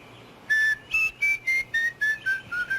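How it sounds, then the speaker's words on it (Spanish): A man whistles a short tune: about nine clear, sustained whistled notes in an even rhythm, close and fairly loud, each note slightly lower than the last, with no talking. "A ver, silba."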